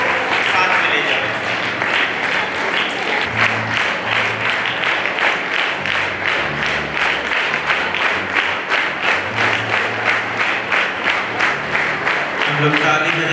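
Steady audience applause fills a Sunday School Day church gathering, dense rhythmic clapping from a large crowd sustained throughout, loud and close, with a voice speaking briefly underneath.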